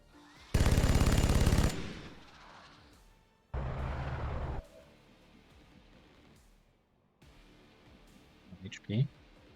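Gunfire in the game XCOM Long War shooting a sectoid: a loud sustained burst of automatic fire, a quieter pause, then a second heavy burst, followed by softer impact and game sounds with a voice briefly in the background.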